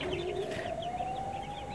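A flock of month-old joper chickens on a farm peeps and clucks continuously, with overlapping chirps filling the space and no one talking.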